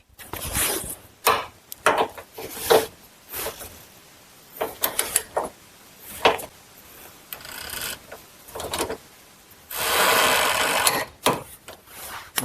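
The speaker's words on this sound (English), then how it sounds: "then we're going to go ahead and tighten up all these subframe bolts" A wrench tightening subframe bolts during a GM 4T65-E transmission install, a series of close ratcheting and metallic clicking bursts with short pauses between pulls, no voices.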